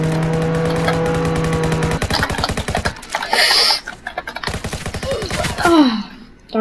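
A car in the Roblox game Jailbreak revs with a buzzing, rattling engine drone, mixed with rapid machine-gun-like bursts and sharp game effects, loud and busy throughout.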